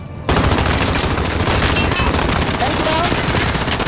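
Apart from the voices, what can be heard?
gunfire in the video game Call of Duty: Modern Warfare Warzone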